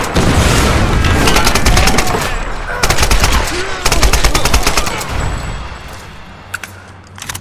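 Assault rifle fire from Tomb Raider (2013) comes in loud, rapid automatic bursts, with heavy booms layered over continuous gunfire and dense rattling volleys that ease off near the end.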